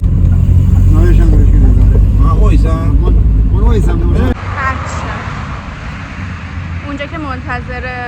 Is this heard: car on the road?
yes